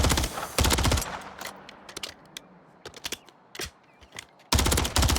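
Gunfire in the video game Call of Duty: Modern Warfare 3: loud dense bursts at the start and end, with scattered single shots and clicks between them over a quiet background.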